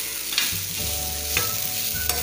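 Ridge gourd peel chutney with turmeric and salt is stirred in a hot pan, giving a steady close sizzle broken by a few soft spoon scrapes.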